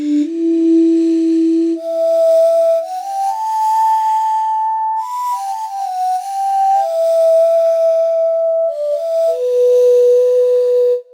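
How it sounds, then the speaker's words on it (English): Breathy synthesized pan-flute patch from Omnisphere, evoking the Lanayru Sand Sea theme in Zelda, plays a slow melody of sustained notes alone, loud and close, with an airy, whistling tone throughout. "It's called Windy Pseudo Pan Flute, and it's the sound of this gorgeous flute that comes in the first time you go to the Lanayru Sand Sea region"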